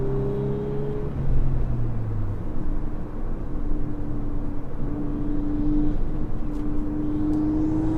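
Volkswagen Golf R with stiffened suspension driving on the road, its exhaust giving a low steady drone with faint burbling, close and continuous without any talk.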